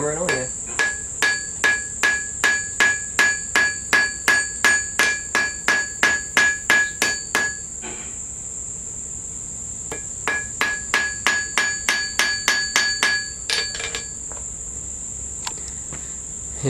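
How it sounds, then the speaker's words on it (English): Steady rapid hammer strikes ring out as a metal stopper is hammered onto steel snare cable, in two long runs of sharp, evenly spaced blows with a brief pause between, over a constant high insect-like whine. "I'm just going to hammer it on there"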